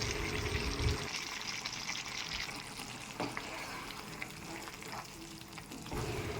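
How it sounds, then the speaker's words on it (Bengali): Chicken with a spoonful of roasted spice powder stirred in a pan as it cooks in the liquid from yogurt and meat, a continuous soft sizzle with scraping stir strokes and occasional clinks throughout. "এবার 1 চামচ ভাজা মশলা দিয়ে ভালো করে মিশিয়ে নেব।"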